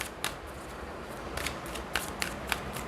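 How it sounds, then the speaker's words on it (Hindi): Tarot cards are shuffled by hand, a run of crisp riffling bursts and light slaps at uneven intervals, close and fairly quiet with no voices. "one more shuffle Leos"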